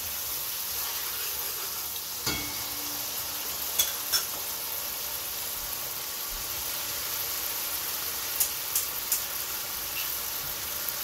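Spices fry and sizzle in a pot while being stirred, making a steady soft hiss with occasional scraping clinks, close and quiet, with no talk.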